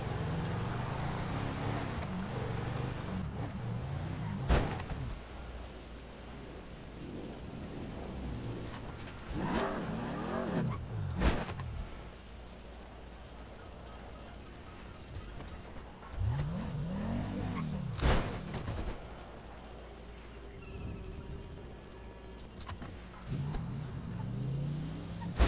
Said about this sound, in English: It's four wheels spinning.